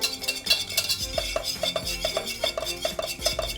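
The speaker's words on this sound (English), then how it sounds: "Now this time we're going to use our whisk to mix that butter and" A whisk beats butter and cream together in a bowl, clicking and scraping against the sides in a quick, regular rhythm, close and clear with no talking over it.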